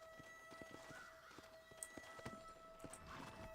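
Horse hooves in the Red Dead Redemption video game clop in a steady, moderately close walking rhythm, with sustained musical tones running underneath.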